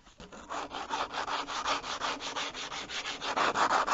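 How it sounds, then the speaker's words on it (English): Sandpaper rubbing back and forth over a wooden smoking pipe, a steady run of close, brisk scraping strokes in an even rhythm with no talk. "get everything all smooth and sanded down"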